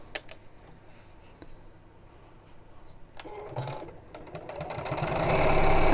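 Sewing machine stitching a seam, starting with scattered soft ticks and handling noises, then building into a steady, close, whirring run that grows louder toward the end.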